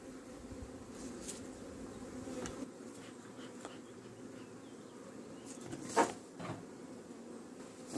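A large honeybee swarm buzzes steadily around an apiary outdoors, a continuous low droning hum with individual bees passing close to the microphone now and then, no talking.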